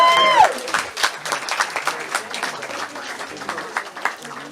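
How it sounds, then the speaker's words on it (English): A room of guests at a Grade 12 graduation Shabbat applauds the graduates' parents with scattered, uneven clapping that thins out over a few seconds, with a voice briefly heard at the start. "I think a round of applause is called for."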